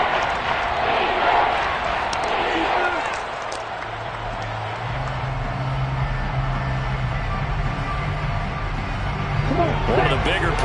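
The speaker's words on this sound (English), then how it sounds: "the crowd getting into it as we come up on a big 3rd down" A football stadium crowd roars in a continuous, rumbling wash of cheering and noise that swells and eases over several seconds, with a commentator's voice running over it.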